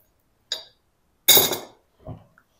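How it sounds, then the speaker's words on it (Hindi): Sugar is added to a bowl as three separate short bursts: a light clink, then a louder, rattling pour, then a softer tap, with silence between them and no voices. "इसमें हम चीनी डालेंगे।"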